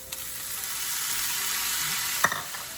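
Crushed diced tomatoes go into a pan of cooked onions, setting off a steady close sizzle that builds and holds, with a brief clink of a utensil near the end.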